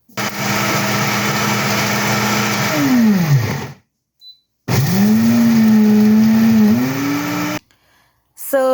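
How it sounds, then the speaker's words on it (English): A blender whirs loudly as it grinds a homemade spice mix, motor pitch sliding down as it stops, a brief gap, then a second steady run that cuts off abruptly. "So I will start blending them all together now."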